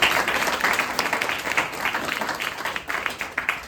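A crowd at the opening of a new after-school childcare extension claps for a woman, with individual hand claps audible within the lively applause, which fades slightly toward the end.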